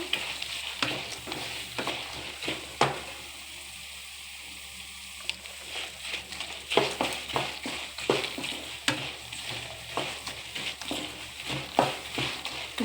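Chana dal and urad dal deep frying in hot oil, a steady close sizzle with crackling bursts and occasional stirring clatter, no voices.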